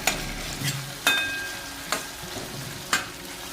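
Tomato fries in hot oil for a Maharashtrian tur dal tempering, a soft close sizzle punctuated by a few distinct clanks of a spoon against the pan.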